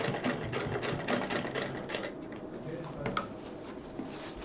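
Sewing machine stitching a fabric purse, a fast rhythmic mechanical chatter running in short bursts with someone speaking over it.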